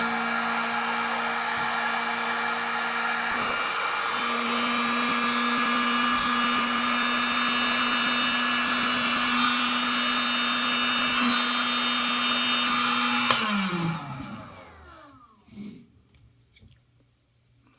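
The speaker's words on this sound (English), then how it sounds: "I have a heat gun here, and I'll just run that" A heat gun blows steadily and loudly for about thirteen seconds while shrinking heat shrink tubing over a Milwaukee Fastback 6-in-1 bit holder, its whine then dropping in pitch as it powers down, leaving a few quiet clicks.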